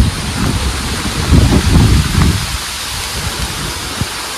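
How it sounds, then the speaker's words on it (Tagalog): Steady heavy roar of Typhoon Kristine's wind and rain in Bicol, loud and enveloping, with a gust swelling in the middle before settling back. "Grabe, lakas pa rin ang hangin."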